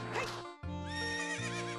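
Epona, the horse in the video game The Legend of Zelda: Ocarina of Time, lets out a single loud, close whinny that breaks briefly, then continues in a long, wavering neigh with no talk over it.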